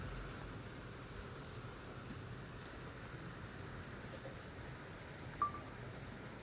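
Rain patters faintly and steadily outside a parked car, a soft continuous hiss with a single brief beep near the end.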